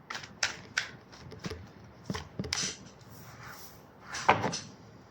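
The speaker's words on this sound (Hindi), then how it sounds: "और एक शफल कर लेती हूँ" Tarot cards are shuffled by hand nearby, making a series of short, crisp riffling and tapping sounds with brief pauses between them.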